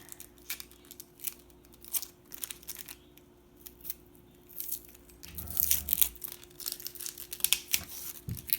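Butternut squash being peeled in a home kitchen: faint, irregular scraping and rasping strokes of the peeler against the skin, a quiet cluster of crisp rubs with brief pauses between them and no talk.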